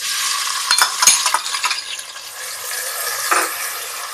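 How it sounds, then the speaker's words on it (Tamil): Steady hiss of crushed small onions frying in hot oil for mutton biryani, with a few stirring scrapes and clinks, close and continuous, no voices. "ரெண்டும் சேர்ந்து நல்லா செவக்க வறுக்கட்டும்."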